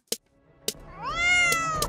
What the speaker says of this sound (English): This fat cat called Snoop Cat just gave me a violent head pat